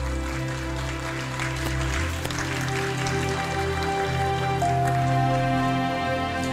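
An audience applauds at an open-source award ceremony, a steady dense patter of clapping that holds at an even level throughout and sits under faint background hum.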